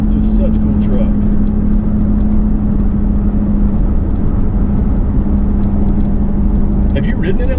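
1994 Chevrolet K2500 Silverado with a 6.5 turbo diesel driving, its engine a loud steady drone with a low hum inside the cab, while people talk over it.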